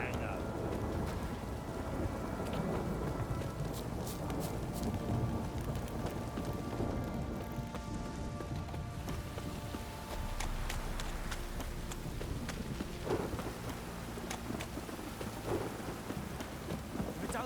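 Steady rain with rumbling thunder in The Witcher 3: Wild Hunt, a dense continuous wash of downpour and low rolls running the whole time, with faint game dialogue and effects mixed underneath.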